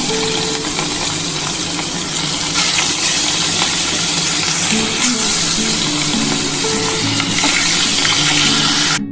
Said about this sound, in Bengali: এবার আমি একটা একটা করে ভেজে নেব।